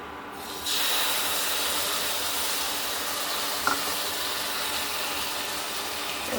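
Rice boiling in a pot on a home kitchen stove gives a steady, close hiss of bubbling and steam that carries on without a break, with one faint clink partway through.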